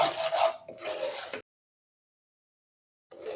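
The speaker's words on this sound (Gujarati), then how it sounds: "આ રીતે ડ્રાયફ્રૂટ ઉમેરીને આપણે બધું મિક્સ કરી અને સોજી સાથે ડ્રાયફ્રૂટને પણ સાતળી લઈશું" Semolina is sautéed with cashews, almonds and raisins in a pan for sheera, heard as close dry scraping and rubbing of a spoon through the grainy mix in short bursts broken by a long silence.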